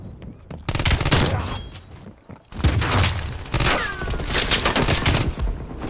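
Rapid automatic gunfire in Call of Duty: Black Ops Cold War, dense loud bursts of shots in quick succession, close, with brief pauses between volleys.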